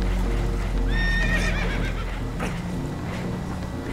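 Spooked horses neigh and whinny shrilly in Red Dead Redemption 2 aboard a damaged boat taking on water, with hoof clatter over a constant loud rumble of water and wind; no talk.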